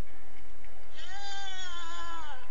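A cat gives a single drawn-out meow, clear and close, rising then falling in pitch over about a second and a half, with quiet room noise before it.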